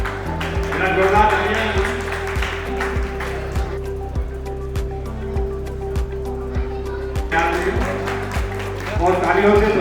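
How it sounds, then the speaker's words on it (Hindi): Applause from a crowd welcoming guests at a retirement party, steady clapping running under talk throughout and swelling louder at the start and end. "तालियों से स्वागत किया जाए"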